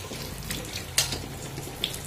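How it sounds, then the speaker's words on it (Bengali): Running tap water over cut potatoes and cauliflower being washed, a close, steady splashing hiss with a brief louder splash partway through. "এখানে আলু আর ফুলকপিটা ভালো করে কেটে ধুয়ে নিচ্ছি।"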